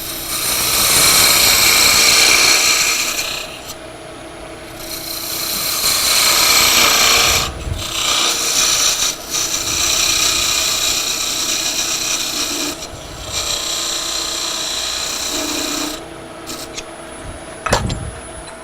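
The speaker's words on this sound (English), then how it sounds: "this is what's called a beading and parting tool" Wood turning on a lathe, trimming a miniature bird house with a beading and parting tool: a steady scraping, rasping cut that runs loud and continuous, broken by brief pauses.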